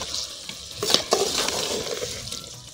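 Sugar being stirred into a pot of turnip curry cooked in ghee, with a spoon scraping and clinking against the pot amid a light sizzle, in a steady irregular rhythm close by and without speech.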